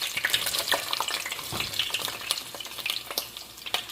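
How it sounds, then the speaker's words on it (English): Onions hit heated oil and fry with a loud, crackling sizzle and scattered sharp pops for spaghetti sauce, up close and continuous with no talking. "our oil is heated. We're going to start with our onions."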